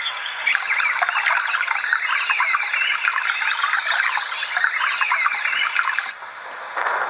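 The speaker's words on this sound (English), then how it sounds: "Songbirds." Songbird ambience from a circuit-bent sound machine: dense, continuous chirping and tweeting in a thin, band-limited synthetic wash, with a brief dip near the end.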